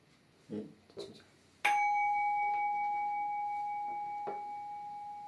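Two soft thumps come first, then a singing bowl is struck once with a clear strike and keeps ringing in a sustained, gently pulsing tone that decays slowly, with a faint light tap near the end.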